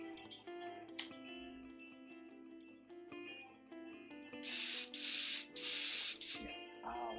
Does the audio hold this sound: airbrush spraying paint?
yes